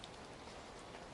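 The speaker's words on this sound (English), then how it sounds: "Rain pelted the roof like stones." Steady rain pelts a roof during a thunderstorm at night, a soft, dense, even patter that stays faint and continuous with no voices.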